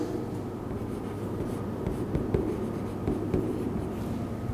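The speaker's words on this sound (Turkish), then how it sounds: "Buraya kadar yazdım." Steady close scratching of a pen or pencil writing numbers by hand on paper during a math lesson, a continuous rustling texture with small taps and no speech.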